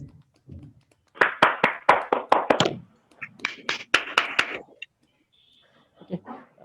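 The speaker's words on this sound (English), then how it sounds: "Everyone please unmute and give a round of applause to Toastmaster Mukul." Online meeting members clapping for a newly elected club president, uneven bursts of hand claps from a few participants over microphones, close and intermittent with short gaps and a faint voice near the end.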